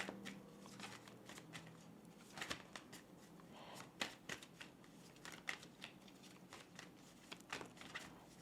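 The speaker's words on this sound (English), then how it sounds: "Now I'm going to get some more tarot cards." Tarot cards riffle and slide through steady shuffling, crisp close-up flicks and snaps repeating throughout at a soft, intimate level with no talking.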